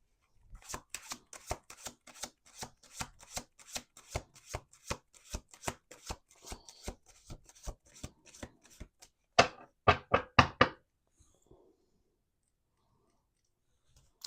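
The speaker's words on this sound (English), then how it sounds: "Last shuffle." Tarot cards are shuffled in a quick, regular run of crisp snaps, then a few louder slaps close together before everything falls quiet.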